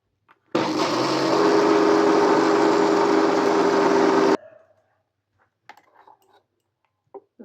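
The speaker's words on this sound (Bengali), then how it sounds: "ডাল খুব তাড়াতাড়ি পিষে যায় মিক্সারে।" A mixer grinder grinds soaked urad dal with a little water, a loud steady whirring roar for about four seconds that then cuts off, followed by a few faint clicks and knocks.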